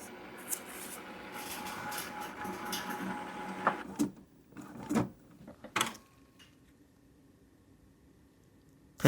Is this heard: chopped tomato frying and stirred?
no